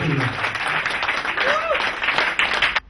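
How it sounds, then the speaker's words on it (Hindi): A seminar audience in a hotel hall breaks into dense, loud clapping that continues for a few seconds before cutting off abruptly, with a voice briefly heard at the start. "एक बार जोर से ताली बजा दीजिए, दिल लगाकर ताली बजा दीजिए"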